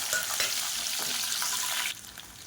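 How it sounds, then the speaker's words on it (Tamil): Finely chopped small onions fry loudly in oil with fennel, curry leaves and dry chillies, giving a dense continuous sizzle that drops suddenly near the end. "இப்போ பாருங்கள், வெங்காயம் பொன்னிறமாக வதங்கிடுச்சு"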